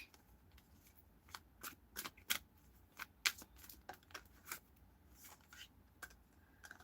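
Tarot cards are shuffled by hand in quick, irregular riffles and snaps, a dozen or so crisp papery bursts spread across a very quiet room.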